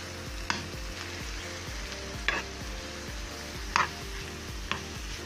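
Chopped onion and carrots fry in a pan, a steady sizzle with intermittent scrapes and clinks as a utensil stirs them, close and continuous without talk.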